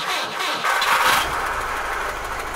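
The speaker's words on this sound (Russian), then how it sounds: "Двигатель работает ровно." A UAZ Bukhanka off-road van engine cranks and catches, then settles into a steady mid-pitched running hum, close and fairly loud, with no talking.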